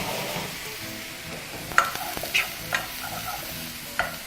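Tomatoes sauté in a pan for charring, giving a moderate steady sizzle with several crisp clicks and scrapes from a stirring utensil and no speech.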